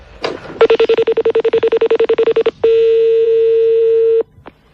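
A telephone call being placed: a short beep, then a rapid run of evenly spaced dialing pulse tones, followed by one long steady ringing tone lasting under two seconds, loud and close with no voices.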